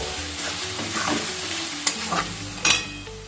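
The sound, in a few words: stirring poppy seed paste into frying paneer curry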